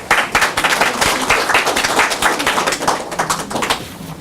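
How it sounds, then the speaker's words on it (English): Audience applause at an awards ceremony for early college acceptance and SAT scores, a dense, steady burst of many hands clapping close by, with crisp individual claps standing out throughout. "Let's give them a big hand of applause."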